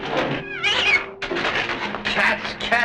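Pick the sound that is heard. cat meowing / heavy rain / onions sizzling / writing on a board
cat meowing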